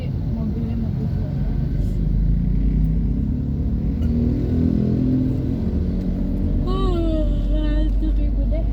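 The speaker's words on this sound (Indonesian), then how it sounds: "Ini mobilnya mobil tua." An old car's engine rumbles steadily from inside while creeping through jammed traffic in Lampung, Sumatra, with voices talking over the low drone and a brief rising whine near the end.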